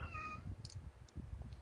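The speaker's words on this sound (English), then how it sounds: "I hear your cat." A cat gives a single clear, drawn-out meow at the start, followed by a few faint, brief chirps over low background rumble.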